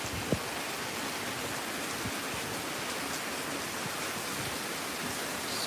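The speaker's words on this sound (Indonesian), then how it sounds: "Ini hujan besar." Steady broadband hiss of heavy rain pouring down continuously, even and fairly loud with no voices, a few faint drips or taps standing out briefly.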